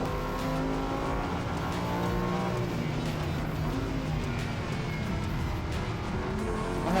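A race car laps a circuit with a continuous, loud engine howl whose pitch rises and falls as it revs through corners, sustained throughout with no speech.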